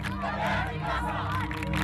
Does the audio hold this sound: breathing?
no